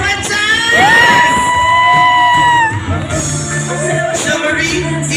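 Wedding reception guests cheer, whoop and shout together in a loud crowd roar during a garter game, with a drawn-out yell rising above the noise and music underneath.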